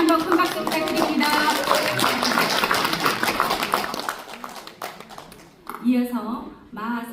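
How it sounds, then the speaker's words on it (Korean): Audience applause at an elderly-honoring awards ceremony and seminar in Korea, dense clapping for several seconds that thins out as a voice begins speaking over a quieter room near the end. "다시 한번 큰 박수 부탁드립니다."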